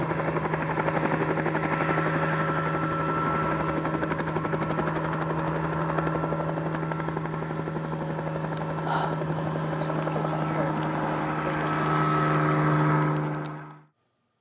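Helicopter rounding up wild horses, a steady droning rotor and engine hum held close and loud for the whole stretch before cutting off abruptly.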